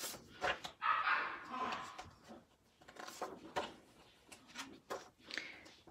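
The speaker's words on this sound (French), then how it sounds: "Excusez pour mon petit chien, Tana." A small dog barks and yips in short, uneven bursts indoors, fairly close, with a person talking in between the barks.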